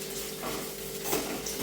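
Onions frying in ghee in a pan give off a steady, close sizzle, with faint stirring scrapes near the middle and end and no voices.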